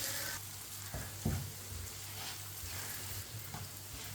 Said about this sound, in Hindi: सारे मसालों को आधे मिनट के लिए पका लेंगे।